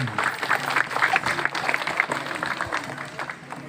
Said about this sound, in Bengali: আমরা একটু হাততালি দিই সাংবাদিক ভাইদের